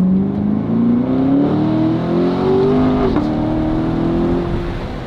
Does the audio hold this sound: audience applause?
no